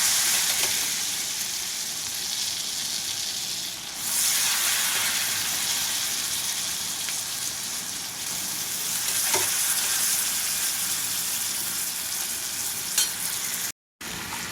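Boiled elephant yam is stirred while frying in a pan, with a steady, dense sizzle and hiss running throughout and occasional soft scrapes of the spoon against the pan.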